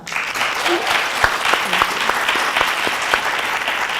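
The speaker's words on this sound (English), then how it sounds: "Round of applause for her." Audience members at a historic preservation panel applaud with a thinner spread of individual claps, a few sharp hand smacks standing out close by, and faint murmuring voices mixed in.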